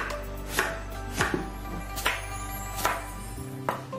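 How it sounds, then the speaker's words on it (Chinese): A knife chops tofu and tomato into small pieces on a cutting board, sharp regular thuds about every three quarters of a second over a steady low kitchen hum, close and clear with no speech. "豆腐把它切成小块，番茄切成小块"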